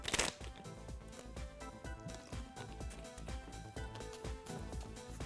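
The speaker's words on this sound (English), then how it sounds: "Mix them all up, cut them, shuffle them." A deck of playing cards is shuffled in a quick, fluttering riffle of rapid papery clicks that runs steadily throughout, close and fairly quiet, with no voices.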